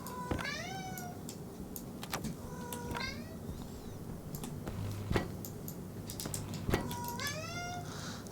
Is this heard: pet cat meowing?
yes